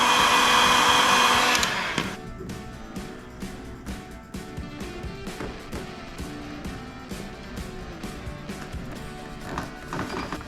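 A heat gun or hair-dryer-style blower warms the glue on a badge off a Can-Am Outlander 1000R ATV, a loud steady roar for the first two seconds, then cutting to a quieter background with repeated short knocks.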